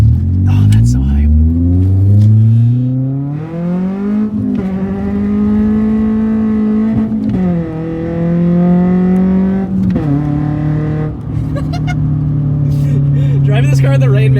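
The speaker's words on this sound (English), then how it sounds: "Driving this car in the rain makes it feel so rowdy too." A roughly 130-horsepower car with a handbrake extension is driven hard in the rain on a track, its engine revving up through the gears in loud rising sweeps, with brief drops at each shift.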